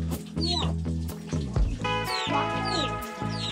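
Chickens cluck and squawk up close in a traditional tribal village, with a run of repeated clucks and a few sharper calls overlapping one another at fairly steady loudness.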